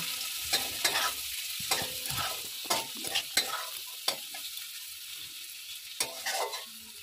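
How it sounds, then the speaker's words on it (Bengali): Carrot pieces fry in a pan for restaurant-style mixed fried rice, with a soft continuous sizzle broken by irregular scrapes and knocks of a spatula stirring them, close by and without speech. "তো গাজরটাকে আমি একটু ভেজে নেব।"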